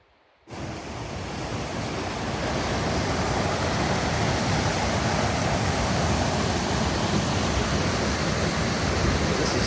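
Kennedy Creek rushes loudly along a Pacific Crest Trail crossing, a dense, continuous roar of water that swells in after a short quiet moment and holds steady throughout.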